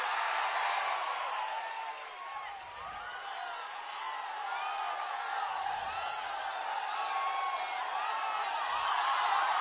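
A large outdoor crowd at a Prajagalam political rally in Nellimarla roars steadily with scattered whistles and cheers, and clapping may be blended into the continuous wash of sound.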